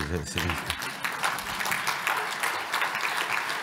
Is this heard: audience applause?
yes